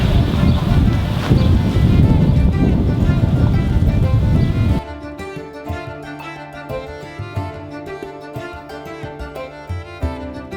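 Strong wind blowing outdoors in a daylily garden: loud roaring gusts buffet the microphone for roughly five seconds, then cut off abruptly and give way to quieter background music.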